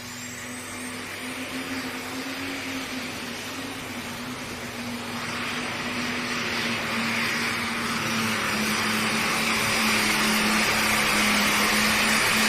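A 10,000-pound pro-class pulling tractor on 24.5 rear tires spools up its engine, a loud sustained roar with a steady droning tone and a rising turbine whine that grows louder and fuller over several seconds.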